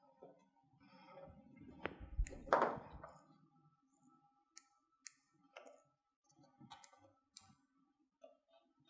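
Rotary cutter clicking and scraping against a Martelli square while trimming the corners of fabric for a bag bottom, a dense burst of handling noise followed by scattered sharp, close ticks and taps with no talk.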